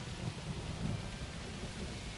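Steady rain pours at night in a scary game, a dense hiss with low rolling thunder rumbles swelling faintly underneath, continuous and without voices.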